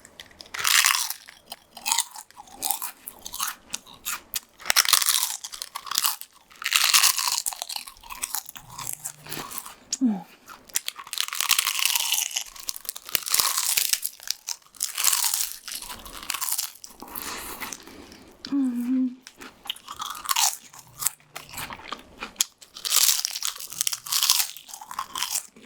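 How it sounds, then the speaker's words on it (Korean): Someone bites and chews crunchy fried flower tempura close to the mic, with loud, crisp crunches repeating steadily and no talking. "자, 일단 너무 이쁜 꽃튀김부터. 무슨 맛일지 너무 궁금해. 먹어볼게요."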